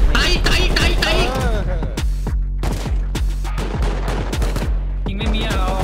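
Rapid gunfire in the survival game Rust, sharp repeated shots in quick bursts spread through the stretch, loud and close, with players' voices talking over the shooting.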